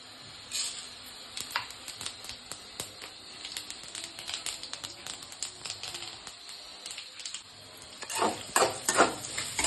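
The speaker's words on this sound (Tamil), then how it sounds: "கடாய் காஞ்ச பிறகு எண்ணெய் ஊற்றி கடுகு போட போகிறோம்" Mustard seeds sizzle and crackle steadily in hot oil, with scattered pops that grow busier and louder toward the end.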